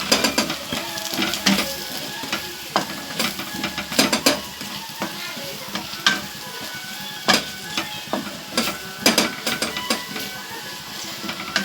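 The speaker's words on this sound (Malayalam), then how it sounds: "പെരുംജീരകം പൊടിച്ചത് അല്ലേ ഒന്ന് ഇളക്കി കൊടുക്കും" Beef frying in a pan with ground fennel and garam masala, stirred with repeated scraping and clattering strokes over a continuous sizzle.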